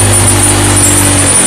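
A Honda Vario 125 scooter engine is held at full throttle while losing power, with its exhaust running slightly rough. It makes a loud, steady, close drone with a low hum throughout and no voices.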